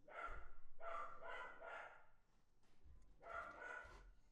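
A puppy barks in a few short bursts indoors, fairly faint and slightly distant, with quiet room noise between the yaps and no talk over them.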